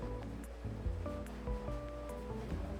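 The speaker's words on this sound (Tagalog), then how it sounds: "Umuulan. Lakas na." Heavy rain pours down in a steady, dense roar with low rumbling undertones, constant throughout with no voices.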